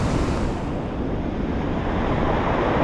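Big ocean waves break and surge continuously along a rough coastline, a loud, dense, roaring wash of surf with wind noise buffeting the microphone and no voices.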